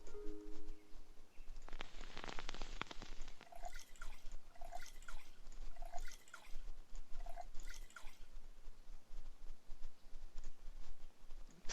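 Water being collected in NEO Scavenger: a brief gush, then a run of soft, evenly spaced drips and trickles, fairly quiet against a faint background hum.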